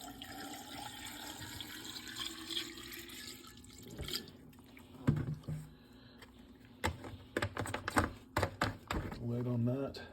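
Hydrochloric acid poured over pinless CPUs in a container for gold recovery, a steady liquid splash and trickle with clinks and knocks of glassware near the end; a voice speaks over it.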